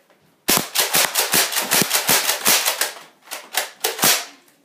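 A painted Nerf blaster fires darts in a rapid burst of sharp clicking snaps, roughly two dozen quick shots at uneven intervals, close and loud, with no talk.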